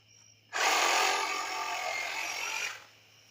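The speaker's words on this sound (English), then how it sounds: "Another tool that we use, good Sawzall." Sawzall reciprocating saw cutting through a goat's tail during processing, one loud continuous buzzing cut of about two seconds, close by and alone.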